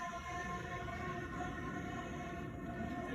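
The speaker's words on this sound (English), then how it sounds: "The blowtorch must be making the pipe. You can hear it vibrate." A metal pipe heated by a blowtorch gives a dense, continuous roaring hiss with steady ringing tones layered through it, loud and unbroken throughout.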